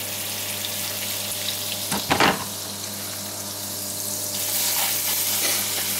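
A pork outer fillet steak sizzles in a hot frying pan, a steady broadband hiss with a brief louder clatter partway through and the sizzle swelling slightly toward the end, with no voices.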